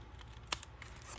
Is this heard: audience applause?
no